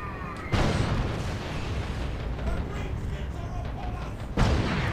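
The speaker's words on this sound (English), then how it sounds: "just look at that autocannon, just ripping through these tank busters" Autocannon fire in a video game, tearing through tank busters as a dull, rumbling barrage of booms with two sharper blasts at the start and end, mixed into a noisy battle background.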